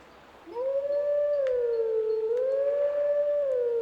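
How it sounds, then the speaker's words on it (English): Wolf howling a melodic song in the Zelda Twilight Princess video game, one long clear sustained howl rising and falling in pitch, loud and alone with no talk. "maybe you can sit there and howl the same song"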